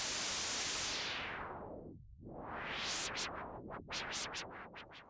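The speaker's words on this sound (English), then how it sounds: "This output produces filtered noise for either the gritty output or the white noise output, selected by this switch." Broadband hiss from a Befaco Noise Plethora module in VCV Rack, swept down by a filter to a low rumble, then swept back up and rapidly chopped into bright bursts, steady and loud throughout.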